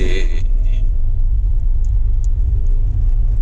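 A manual car pulling away on the clutch alone with no throttle, a steady low engine rumble close by at idle speed, with a brief mechanical clatter at the start and no talking.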